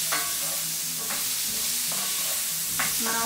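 Zucchini and sweet potato sizzle loudly in a pot while a spoon stirs them in several scraping strokes over a constant frying hiss, with no talking.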